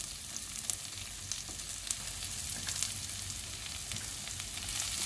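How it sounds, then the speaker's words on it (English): Sliced onions sautéing in a pan for beetroot pulao give a steady, soft sizzle with a faint crackle that runs evenly throughout, close by and unbroken by any voice. "So now let's saute the onions."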